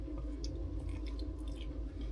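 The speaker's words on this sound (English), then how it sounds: "I love eating the skin." Close, steady chewing of smoked goose skin, a continuous moist munching with soft crunchy bits, heard alone without talk.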